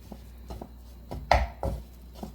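A spatula stirs gram flour roasting in ghee in a pan for a homemade sweet, giving a few soft knocks and scrapes at close range, irregular and fairly quiet.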